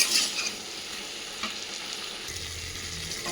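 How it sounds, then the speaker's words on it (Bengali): Pumpkin pieces frying in a pan and being stirred, with a soft steady sizzle and scraping stir strokes close by, with no voices. "কুমড়োটা খুব ভালোভাবে ভাজি করে নিচ্ছি।"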